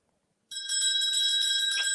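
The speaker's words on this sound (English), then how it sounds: "So that's the bell for last orders, ladies and gentlemen." A bell rung for last orders in a pub, a bright sustained electric ringing that starts abruptly and carries on steadily, fairly close and alone.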